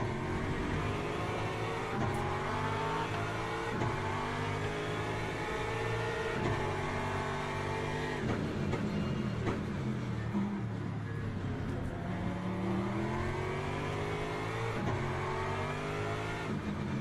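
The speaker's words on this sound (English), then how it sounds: "I just saw 2 Porsches overtaking themselves." Two Porsche race cars in a racing video game run close together, their engines revving loud and steady with rising and falling harmonic sweeps as they overtake, continuous for the whole stretch with no talk over it.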